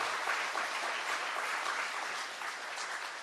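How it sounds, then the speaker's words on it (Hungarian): Steady applause from an audience at an anniversary celebration program, a dense, continuous wash of clapping that holds for several seconds and tapers slightly toward the end, with no talking over it. "Kérek nekik egy tapsot"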